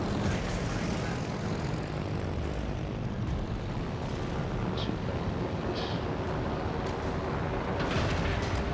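Carrier aircraft engines in the World of Warships Legends video game, a steady loud propeller drone roaring continuously without a break, with no talk over it.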